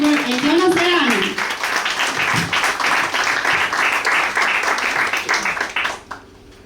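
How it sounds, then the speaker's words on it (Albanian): An audience at a 28 November celebration breaks into sustained applause, dense clapping lasting several seconds with a voice heard briefly at the start, then fading away quickly at the end. "dua një duartrokitje shumë të fortë për Eltiona Serani"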